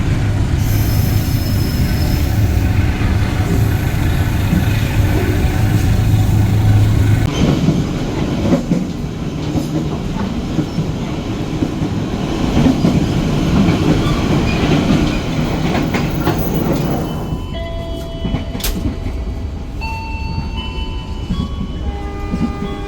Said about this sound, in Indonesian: kereta api Pasundan berangkat kembali